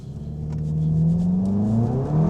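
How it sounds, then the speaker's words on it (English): Tuned Seat Leon Cupra 280 Stage 2+ accelerating hard uphill in second gear with slight wheel spin, engine note rising steadily and loud throughout, no talk. "Let's see if it has some wheel spin in second gear."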